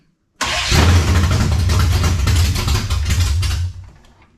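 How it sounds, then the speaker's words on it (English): A 1970 Chevelle with Holley Sniper fuel injection cranks briefly and fires, settling into a loud, steady rumbling idle nearby before the engine cuts off and the noise fades. "Go ahead and don't give it any gas. Just crank it."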